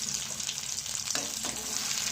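Batter-dipped egg fingers shallow-frying in hot oil over a medium flame, giving a steady, close, continuous sizzle and crackle that holds level throughout, with no voices.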